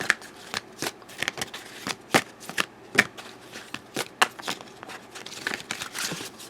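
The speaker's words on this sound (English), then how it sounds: "Just going to shuffle off camera because I don't want to hit the camera and shake it again." A tarot deck, the Angel of Abundance cards, being shuffled by hand close up, a run of quick crisp riffles and slaps in irregular bursts, with no talking.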